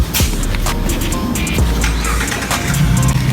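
A car drives past close by, its loud road roar and tire noise filling the scene as a steady rush with brief surges, with no voices.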